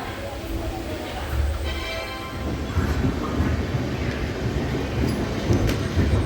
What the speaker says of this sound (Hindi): 4:35 पे ट्रेन अपनी मुजफ्फरपुर जंक्शन से खुल चुकी है।